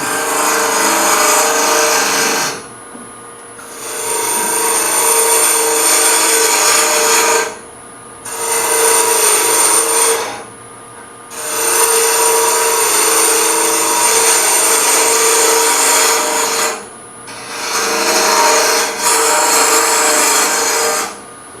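A carbide tool cuts a pewter goblet stem on a lathe, giving a loud, steady hissing scrape in long passes broken by four brief pauses, with a faint high whine throughout.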